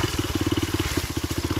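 A trail motorcycle engine runs at a steady idle, producing a rapid, even thumping putter close by, with no speech over it.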